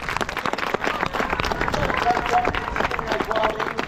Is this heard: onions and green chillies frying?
no